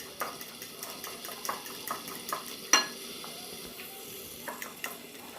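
Rapid stirring of pizza-style batter seasoned with crushed black pepper, a steady run of soft scraping strokes against the bowl with one sharper clink midway, fairly close and without talk.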